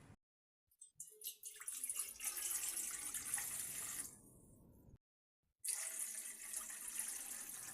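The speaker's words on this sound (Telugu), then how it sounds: "ఇప్పుడు ఇందులోకి వాటర్ వేసుకోవాలి." Tap water running steadily into a bowl of roasted rava made from ration rice, splashing loudly and close for several seconds, pausing briefly, then resuming.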